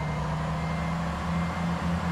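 Truck reversing alarm in American Truck Simulator, a steady repeating electronic beep over a constant low engine rumble, loud and continuous with no talk.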